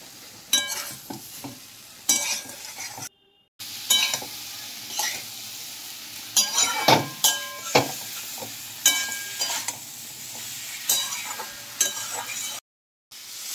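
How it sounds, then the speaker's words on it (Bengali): Fried vegetables sautéed with spices in a pan on low heat, a soft sizzle broken by repeated spatula stirs and clinks against the pan, close and without speech. "এবার আমি দিয়ে দিলাম সমস্ত ভেজে রাখা সবজি। মশলার সঙ্গে ভালো করে কষিয়ে নেব।"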